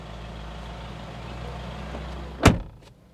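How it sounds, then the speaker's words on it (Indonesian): A single solid car door thump, close by, on a car fitted with sound-deadening insulation, over a steady low diesel engine rumble, followed by a faint second knock. "Sekarang gue tutup pintu."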